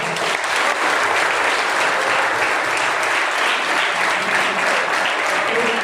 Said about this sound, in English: Big round of applause for ma'am.